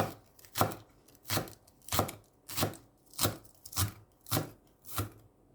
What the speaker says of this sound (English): Chop it as fine as you can.